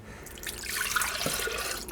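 Orange juice pours into a blender jar in a short, steady liquid stream, close and moderately loud, with no talking.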